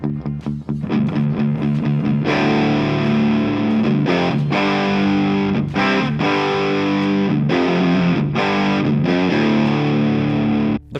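A heavily distorted electric guitar through the dirt channel of a DV Mark Micro 50 amp plays chugging chords and riffs, thick and saturated, with brief pauses between phrases.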